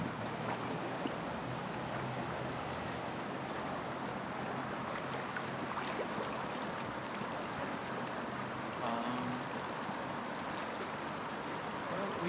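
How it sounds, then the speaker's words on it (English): A river in Calne, Wiltshire, England rushes in a steady, even wash of broadband water noise, constant and moderately distant, with a faint brief tone partway through and no voice. "Here is river."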